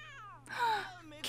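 A cat meows once in an anime, a short rising-falling cry near the middle, with faint tonal sounds before it and a sudden noise at the end.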